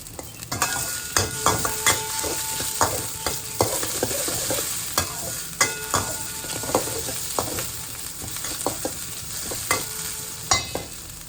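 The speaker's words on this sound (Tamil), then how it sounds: "கடுகு போட்டதுக்கப்புறம் ரெண்டு பெரிய வெங்காயத்தை போட்டிருக்கேன் இதில் கொஞ்சம் ஒன்று உப்பு போட்டுக்கணும்" Sliced onions frying with mustard seeds and salt in a pan, a steady close sizzle with repeated scraping and clinking stirring strokes at an irregular rhythm, no voices.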